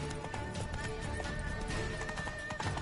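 Horse hooves clip-clopping in a quick, steady gallop in The Witcher 3, close and continuous beneath a busy game soundscape, with faint voice-like murmurs but no clear speech.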